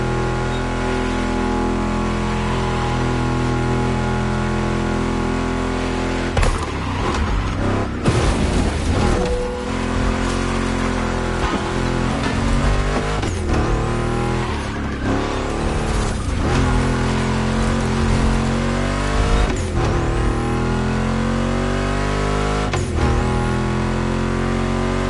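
A Ford Mustang GT muscle car's engine roars in the racing video game The Crew Motorfest, a steady loud drone that surges and revs through a series of gear changes.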